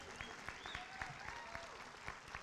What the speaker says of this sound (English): You should cheer for that.